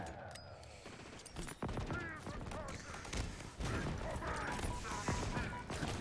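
Gunfire in Halo Infinite crackles as a rapid fusillade with mechanical clanks and game effects, a voice talking over the continuous busy mix.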